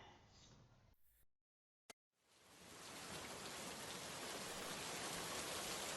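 Heavy rain pours down steadily, a loud dense hiss that swells in after a brief moment of silence and continues unbroken to the end.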